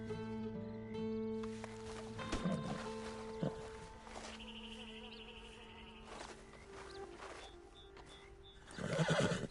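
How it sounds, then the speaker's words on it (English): Horse neighing and whinnying in the Red Dead video game, with a clear whinny near the start, scattered hoof clops and buzzing insects over a steady ambient game drone. "Been a while since you rode a horse."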